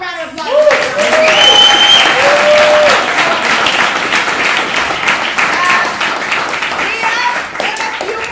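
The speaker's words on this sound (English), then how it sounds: "So give yourselves a round of applause." Loud audience applause fills the room, a thick burst of many hands clapping that swells quickly and then slowly tapers, with a few cheers and voices mixed in.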